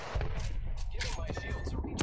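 An artillery strike in a shooter video game sends a rapid string of loud, booming blasts and crackling impacts, with some voices mixed into the barrage.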